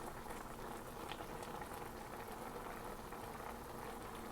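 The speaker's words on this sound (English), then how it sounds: "I'm going to lower the heat a little bit because it's come to a full boil." Mac and cheese sauce at a full boil in a pot, a faint, steady bubbling and simmering hiss heard close up with no voices.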